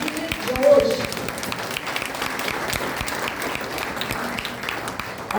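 An audience claps for children after their presentations at a Junior Arya Samaj Vaidic event, a sustained moderate wash of hands with some individual claps standing out and faint voices in the background.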